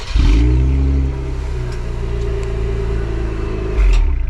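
A 2024 Cadillac CT5-V engine cranks to life up close and revs, settles into a steady idle rumble, then revs again near the end.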